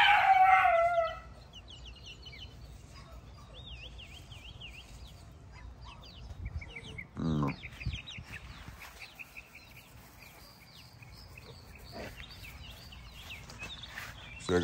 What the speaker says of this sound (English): What kind of chickens are these, man? Are these meat chickens?